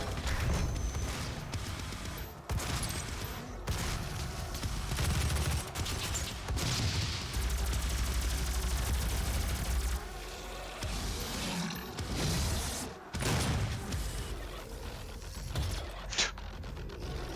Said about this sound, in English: 2 charged Gauss shots for that guy